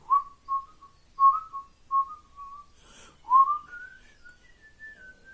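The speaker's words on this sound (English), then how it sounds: "whistles in a wistful sort of way" A person whistles a slow, wistful tune, a string of short notes followed by a few longer, rising tones, clear and close with nothing else around it.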